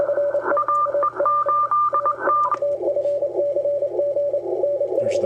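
A loud, unwanted signal on an amateur radio receiver heard through a wide band-pass filter: steady, close beeping tones with a warbling second tone that stops partway, over a constant low hum.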